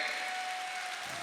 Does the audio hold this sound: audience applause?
yes